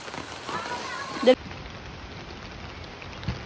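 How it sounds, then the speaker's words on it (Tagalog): Steady rain falls throughout, a soft continuous patter and hiss, with one brief louder knock just before the midpoint. "Umuulan."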